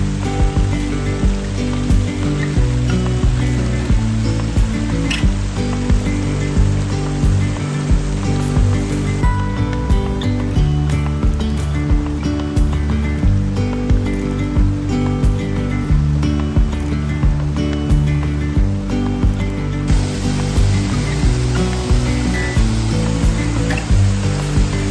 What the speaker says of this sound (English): But just these little waterfalls like this are really beautiful